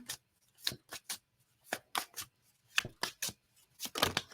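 Tarot cards drawn and shuffled from a deck, a series of quick crisp riffling flicks and slaps in irregular bursts, close and fairly quiet with no talking.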